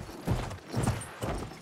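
Horse hooves galloping in the World War II shooter Battlefield V: quick, rhythmic clip-clop beats in repeating bursts, close and moderately loud, with no voices over them.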